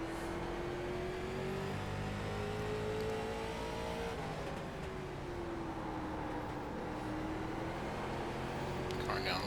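Late model race car engine at The Bullring oval in iRacing, droning steadily at high revs for the whole stretch, with the pitch rising and falling gently through the corners and a faint voice in the background.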